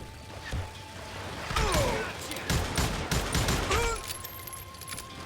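Gunfire in the Western shooter Call of Juarez: Gunslinger, a burst of rapid shots and ricochet whines with clattering mechanisms over a few seconds, while someone talks through it.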